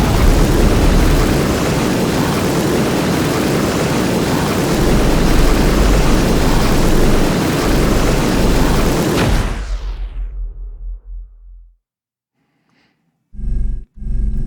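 A spaceship boost in an Unreal Engine and Wwise game roars loudly and steadily for about nine seconds, then tapers off in stuttering fades into silence, followed by two brief bursts near the end.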